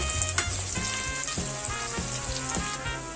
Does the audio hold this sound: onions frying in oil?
yes